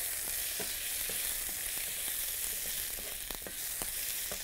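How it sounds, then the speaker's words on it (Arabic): Onions caramelizing in a pan, a constant broad sizzle with soft scattered stirring taps, alone and without talk. "تعالوا نقلب البصل يكرمل كده"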